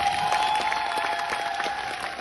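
Concert-hall audience at a tribute evening for a Russian People's Artist, clapping steadily in a dense, sustained wash of applause with a faint tone running underneath.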